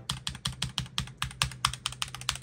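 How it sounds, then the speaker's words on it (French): Rapid, crisp keystrokes on a SteelSeries Apex Pro TKL mechanical keyboard click in a fast, even rhythm, close and clear, with no voices. "le clavier qui est pour moi l'un des meilleurs claviers du moment, vous le savez, c'est le Apex Pro TKL"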